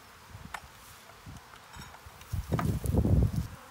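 A small new honeybee colony clustered inside a water meter box gives off a soft, low buzzing, faint at first and then swelling into a louder, closer hum of bees near the end.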